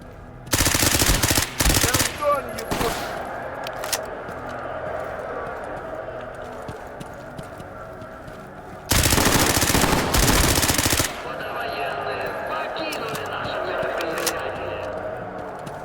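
Automatic gunfire from a gun in the video game Stalker Gamma, two loud, dense bursts of rapid shots near the start and another sustained burst midway, with quieter ambient game noise between and a voice talking at times.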